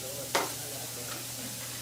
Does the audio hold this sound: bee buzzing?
no